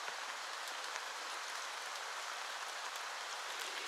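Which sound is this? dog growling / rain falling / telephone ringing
rain falling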